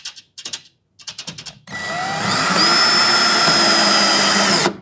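A handheld power drill gives a few short bursts, then a long steady high whine as it drives a screw for a slimline curtain track up into ceiling timber, close and loud.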